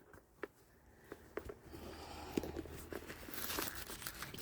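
Soft crinkling and tearing of light styrofoam packing pulled from inside winter boots, with scattered small crunches and rustles building slightly louder toward the end.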